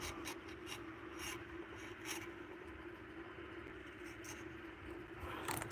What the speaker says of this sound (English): I'm just literally running the knife around the edge of the bowl